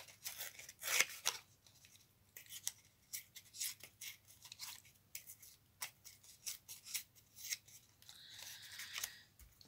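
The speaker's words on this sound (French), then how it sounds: "Donc je déchire." Paper is torn by hand in short, sharp bursts, several quick rips and rustles close by in a quiet room with no speech.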